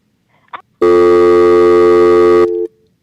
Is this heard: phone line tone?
yes